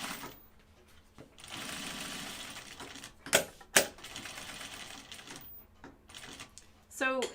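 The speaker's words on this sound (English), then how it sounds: "I'm gonna top stitch this." A sewing machine top-stitching a fabric pocket bucket runs in a steady close whir for a few seconds, stops, and is followed by sharp clicks and a brief final burst of stitching.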